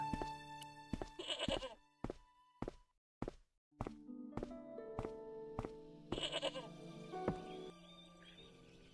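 A goat in the video game Broken Sword bleats a few times, mixed with dull thuds and knocks, fairly quiet and close, with stretches of near silence between sounds.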